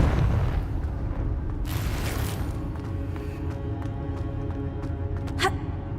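Confringo fire spell blast in Hogwarts Legacy, a deep booming rumble at the start with a sharp burst of noise partway through, followed by short crackles and a faint bright zing near the end.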